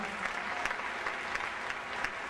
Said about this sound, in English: Let's give Washington a round of applause